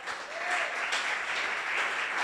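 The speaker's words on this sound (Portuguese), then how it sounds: "Aplauda Jesus" A church congregation applauds during a worship service, steady sustained clapping filling the room for a couple of seconds with no distinct voices.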